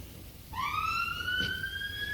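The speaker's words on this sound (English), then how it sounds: "that fire engine was displaying its sirens" A fire engine siren starts abruptly and holds a rising, steady wail, heard at moderate distance over low background rumble in Scotland.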